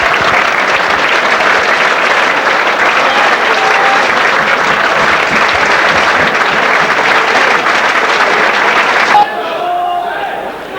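The Adams Park crowd applauds Wycombe Wanderers as Conference champions with loud, sustained clapping and cheers that cut off abruptly near the end, leaving quieter crowd noise and a voice.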